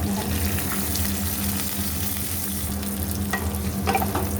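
Fried potatoes and carrots stirred in a pan for sabudana pulao, a loud steady sizzle with a low hum beneath and a few soft stirring scrapes near the end.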